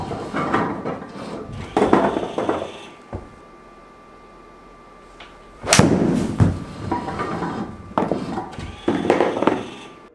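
A golf club strikes the ball during a full swing in a golf lesson, giving one sharp, close crack that stands out from the quieter surrounding sounds.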